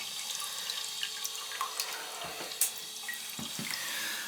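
A flushed toilet refilling and leaking down, with soft trickling water, scattered drips and a brief louder splash, fairly quiet and close with no talking.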